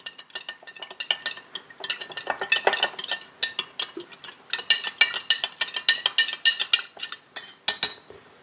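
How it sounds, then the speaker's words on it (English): A spoon stirs grated ginger and sugar together for a ginger bug, giving a quick run of close, bright clinks and scrapes against the container, irregular but steady, with no talking. "Stir it all together."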